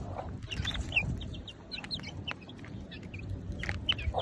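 Chickens cluck in short, scattered calls over a low background rumble, close by and fairly quiet, with no talking.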